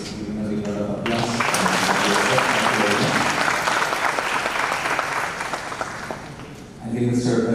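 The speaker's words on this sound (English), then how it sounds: "So let's give him a big round of applause." Seminar audience in a hall breaking into loud sustained clapping that fades out, with a speaker's voice briefly before and after.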